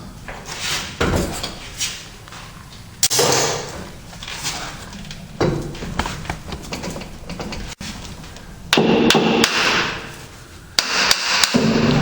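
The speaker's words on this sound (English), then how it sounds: "I had to tap the rear of the flange to get the release" Repeated metal tapping and knocking on the rear of a drive shaft flange while removing an NP208 transfer case from a Chevy 1500 4x4, with several sharp close clanks and a dense cluster of hits toward the end.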